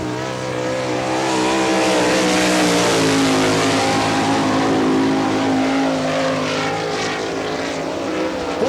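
An All Star Circuit of Champions race car laps the dirt track at Barberville, Florida during Speedweek, its engine a loud, sustained roar that rises and holds before easing slightly as it passes.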